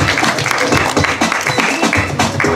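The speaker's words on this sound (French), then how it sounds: "On peut l'applaudir bien fort." Outdoor crowd applauding a football freestyle performer at a grape-harvest festival, steady clapping with some cheering mixed in, fairly loud and continuous throughout.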